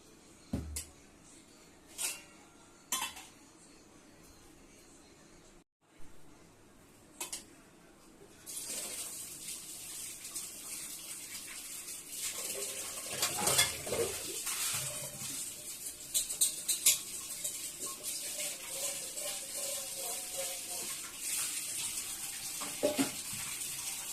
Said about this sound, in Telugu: మిక్సీ గిన్నె ఇవన్నీ అయితే కడిగేసుకున్న గిన్నెలు